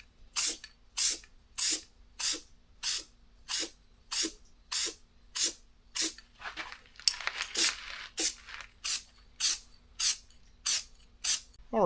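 Short repeated bursts of coating sprayed onto a Lexus GX470 fender, about a dozen evenly spaced hisses close to the microphone, with one longer spray in the middle and nothing else heard.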